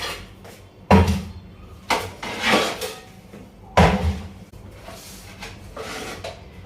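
Metal pots and dishes clatter and clank, with several sharp knocks and scraping bursts as they are handled and stacked, close and fairly loud.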